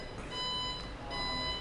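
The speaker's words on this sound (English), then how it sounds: "I turn on the unit and it starts beeping at me like this and doesn't drive, that means we're in neutral" A ComfyGo IQ 8000 folding powerchair switched on in neutral gives off thin, high electronic beeps that sound in steady pulses through a quiet room, with no one speaking.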